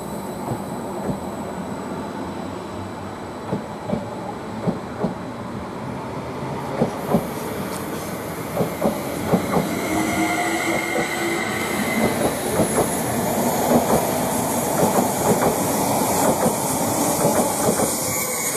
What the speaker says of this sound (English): Now the Greater Anglia 11:55 to Norwich is now just departing.